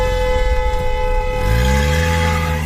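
A train horn blares in one loud, sustained chord from close by, with the engine's low rumble rising and shifting underneath toward the end.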